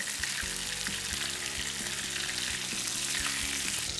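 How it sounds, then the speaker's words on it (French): A thick rib steak, côte de boeuf, frying in a pan with butter and garlic, giving a loud, close, continuous sizzle with steady crackling and faint spoon or pan knocks, and no speech over it. "On va la laisser mijoter comme ça, avec le beurre, l'ail et tout."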